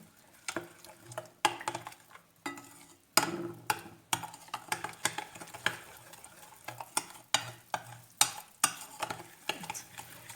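Liquids and salt are stirred in a bowl for dough, heard as a quiet run of rhythmic taps and clinks as a utensil strikes the bowl again and again, close and without talking.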